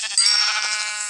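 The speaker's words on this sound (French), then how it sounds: "je viens de voir un mouton que je vais même manger" Sheep in the Minecraft video game giving a single loud, close, nasal bleat that holds for about a second, clean and alone without talk.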